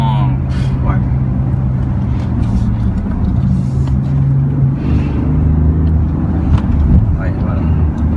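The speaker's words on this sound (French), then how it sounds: "On accélère dans le virage à X-Drive." A BMW X5 with xDrive accelerates through a bend, heard from inside the cabin as a steady, low engine drone and road rumble, with people talking over it.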